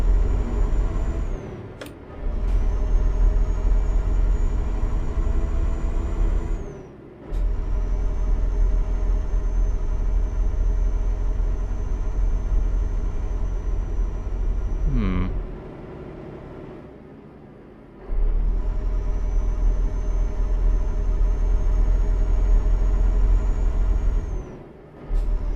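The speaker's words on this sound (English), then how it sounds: "I think they've changed the sound of this truck." A heavy truck engine in Euro Truck Simulator 2 drones loudly and steadily with deep low rumble, dropping away in brief gaps as gears shift or throttle lifts, with a short whine and hiss bursts between pulls.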